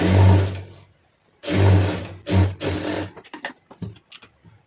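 A sewing machine stitching a quarter-inch folded hem on a blouse, heard up close in two longer whirring runs followed by a string of short, stuttering bursts.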